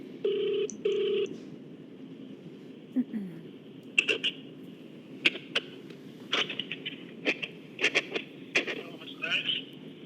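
A phone call on speakerphone, with two electronic ring tones at the start followed by a short chirp. Faint, clipped bursts of speech come through the phone line after the rings.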